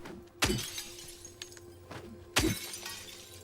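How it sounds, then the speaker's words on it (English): Glass shatters in Silent Hill 2 Remake, two sharp loud breaks about two seconds apart with faint tinkling debris and a low ambient hum between them. "You don't see me breaking these glass?"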